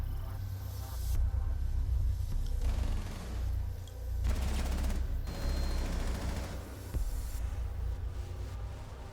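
Gunfire in a Rainbow Six Siege match, heard as repeated bursts of rapid shots with short pauses between volleys over a low droning bed, fairly loud and free of talk.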